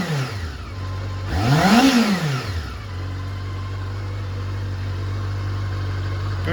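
A 1989 Honda CB1 four-cylinder motorcycle engine idles steadily, then blips up in one sharp rev that rises and falls within about a second, settling back to a smooth, even idle close by.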